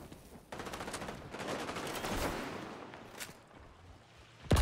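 Rapid P90 submachine gun fire in the shooter XDefiant crackles in a few short bursts of varying loudness, ending in a sharp, close blast at the very end, with no talking.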